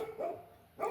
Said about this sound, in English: I'm sure you can hear my dog barking in the background.